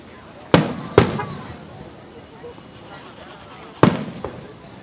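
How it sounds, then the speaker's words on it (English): Fireworks pop in the distance, three sharp bangs in quick succession with a fainter fourth, over a low background hiss. "I like those fireworks."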